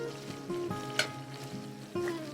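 Onions frying in a pan for liver and onions with homemade gravy, a steady close sizzle with a few louder crackles and stirring scrapes, no voices.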